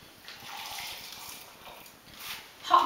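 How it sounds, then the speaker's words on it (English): Hot water is poured over ramen ingredients in a container, a soft steady gushing stream close by that swells briefly near the end. "warm water on it, hot water on it, and just set these aside for the moment"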